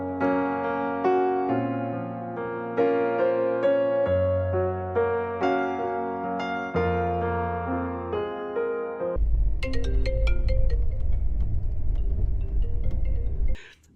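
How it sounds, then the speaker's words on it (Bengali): A mobile phone alarm plays a steady melodic electronic tune of stepped notes for about nine seconds during a train journey, then gives way to a louder, rumbling noisy stretch before cutting off abruptly. "মোবাইলে অ্যালার্ম বাজতেই"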